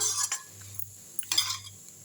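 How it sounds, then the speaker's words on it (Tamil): Idli chilli manchurian stirred in a pan at home, with a few soft scraping, clinking passes of a spoon over a quiet background, fairly faint and close. "நல்லா கிண்டி விட்டுருங்க"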